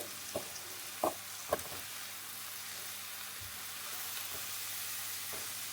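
An egg fries in a pan with a quiet, steady sizzle, punctuated by a few sharp clicks and taps of a cooking utensil near the start.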